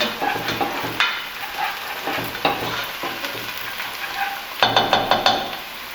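Garlic frying in a pan as chilli con carne is started, with steady sizzling and crackle broken by a few louder scraping and knocking stirs of a utensil against the pan, close and fairly loud with no talk.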